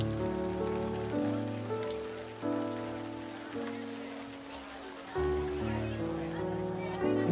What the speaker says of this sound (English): Inside the picture, it was raining.